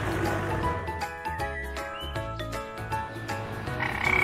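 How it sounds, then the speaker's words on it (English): A frog croaks repeatedly against a bed of chirping and trilling night ambience, the calls pulsing in an irregular rhythm and clearly audible without any voices. "Frog."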